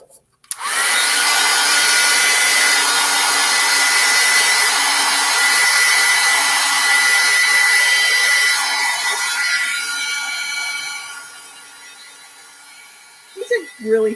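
A hair dryer blows steadily on a watercolor painting, a loud, close, continuous whoosh lasting over ten seconds before tapering off and cutting out, followed by a brief handling sound.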